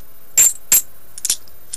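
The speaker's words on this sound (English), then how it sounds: "These are the Kennedy coins" Kennedy coins dropped onto a hard surface, making three bright metallic clinks, the last a quick double bounce, close and clear with no talking.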